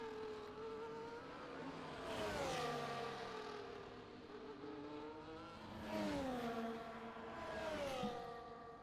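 Racing cars in a sim racing league race whine through the pit lane, steady engine drone rising and falling in pitch as several cars pass, moderately loud with no talking.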